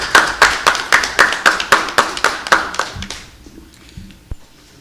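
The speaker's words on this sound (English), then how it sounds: "Let's give them a round of applause." At a town council meeting, a small audience claps in loose, evenly spaced beats, the close, separate claps trailing off after about three seconds into near quiet with a stray tap or two.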